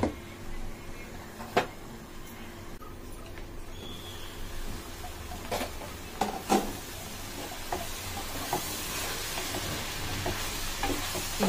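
Egg curry simmering in a pan with tamarind leaves to come, a steady low sizzle and hiss with occasional spoon scrapes and knocks against the pan, close with no talk.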